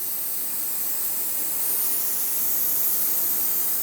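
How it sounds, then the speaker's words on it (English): Brake parts cleaner hisses from an aerosol can in one steady, continuous spray lasting a few seconds, close by, during brake master cylinder work on a 2007-2014 Chevrolet Silverado 2500 HD. "the brake parts cleaner that I spray can actually run down where the brake fluid ran down as well"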